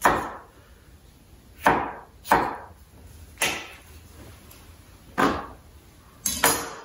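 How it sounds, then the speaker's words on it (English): A knife chopping a bell pepper base into bite-sized chunks on a cutting board, six crisp, separate knocks spaced irregularly, close and clear with no talk. "Cut the base into bite-sized chunks"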